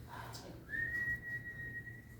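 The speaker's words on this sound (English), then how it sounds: "Who's whistling?" A single steady whistled note, held for over a second at a constant pitch, clear and close against low background hum.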